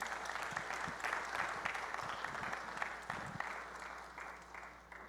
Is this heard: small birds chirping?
no